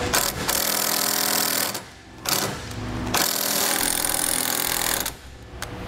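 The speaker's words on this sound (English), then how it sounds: "It's going to take a couple self-tapping screws. I'm going to secure it right to the base plate" A power driver sends self-tapping screws into the base plate of a trailer wiring plug on a 2014 Ford Focus, a loud close whirring buzz in long runs with brief pauses between them.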